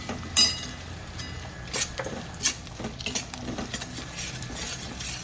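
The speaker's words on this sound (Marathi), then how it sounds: "आता गुळ घालते मी एक वाटी गूळ चांगला मिसळून द्यायचा" A spoon stirs jaggery into cooked wheat porridge in a pot, making soft scraping and sticky patters in irregular bursts over a low background hiss.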